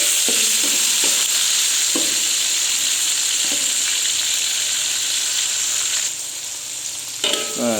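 Tomatoes sizzle loudly in a pan with softened onions for sambal bawang kucai telur, a constant close frying hiss broken by the clacks of a stirring utensil.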